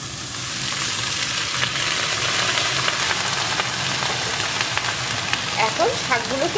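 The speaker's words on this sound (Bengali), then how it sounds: "এখন এর ভিতরে আমি শাকগুলোকে দিয়ে দেব" Fenugreek greens dropped into hot oil with eggplant, frying with a steady close sizzle and light stirring, and a faint voice near the end.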